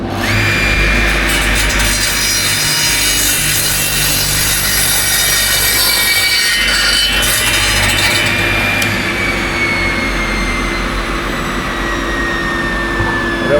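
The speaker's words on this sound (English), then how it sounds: "tell me if you see any dust when I cut this timber." Radial arm saw cutting timber, heard as a loud, continuous whirring and grinding close by, with a steady motor whine holding through the whole cut and a slight shift in tone midway.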